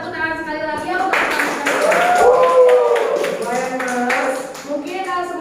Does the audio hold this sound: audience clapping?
yes